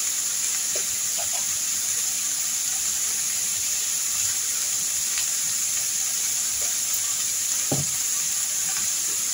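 Pieces of snake gourd fry in a pan, a steady loud sizzle with faint hiss and occasional soft stirring clicks running continuously, no talking.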